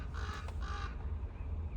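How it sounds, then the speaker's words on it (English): Two loud, harsh crow caws in quick succession, fairly close, over steady low background rumble. "This one crow is always so loud."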